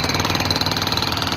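Jackhammer breaking up a painted street mural on a city plaza, a continuous rapid pounding rattle with steady loudness throughout, close and dominant with no voices.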